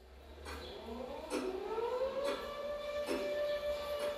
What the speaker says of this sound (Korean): 그 평화를 삽시간에 깨트린 것은 정오에 울린 사이렌이었습니다.